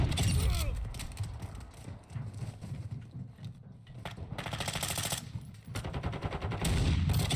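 Rapid automatic gunfire rattles in a shooter video game, dense bursts rising and falling over several seconds, loud and close, with a player talking over the shooting.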